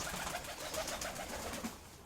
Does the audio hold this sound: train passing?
no